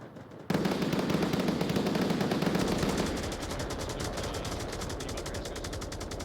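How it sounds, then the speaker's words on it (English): Rapid automatic gunfire from the VR shooter Onward during a competitive team match, a loud, dense stream of shots that holds steady, then continues slightly softer toward the end with no pauses. "Great shooting there."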